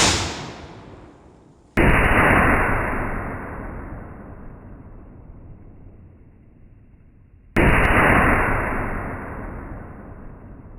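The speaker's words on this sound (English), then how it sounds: "We're shooting the last 2 bottles with the KSG." A Kel-Tec KSG shotgun fires twice outdoors at a bottle, each blast loud and abrupt, followed by a long decaying echo that rolls away before the next shot.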